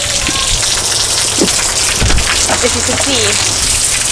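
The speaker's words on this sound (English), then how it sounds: "it's like a complete downpour just happened" Heavy rain pours down in a steady, dense hiss throughout, close and loud, in Reno, with people talking over the downpour.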